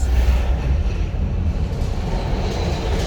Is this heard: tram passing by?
yes